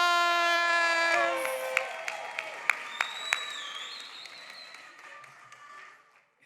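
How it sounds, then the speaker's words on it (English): Audience at a Stanford Black Graduation ceremony applauding the graduates, a broad wash of clapping with a few sharp louder claps and cheers rising over sustained sung or held tones, gradually fading out. "Let's give all of our graduates a round of applause."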